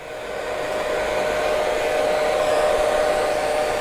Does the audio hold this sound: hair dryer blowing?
yes